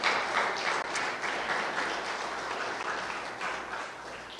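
A church congregation at a Sunday service claps loudly and steadily, a dense sustained wash of applause filling the hall without pause.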